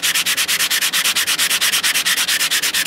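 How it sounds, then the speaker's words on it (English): Sandpaper rubbed around the inside of a metal ring cut from a coin, a steady fast back-and-forth scratching with about seven strokes per second, loud and close, with no voices. "you just put your ring down and you just sand that down real"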